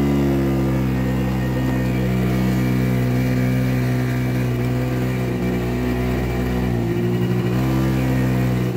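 A TGB Bullet scooter whose engine dies at high revs under load holds a loud, close, buzzing drone that sags and stumbles near the end before picking up again as more throttle is given.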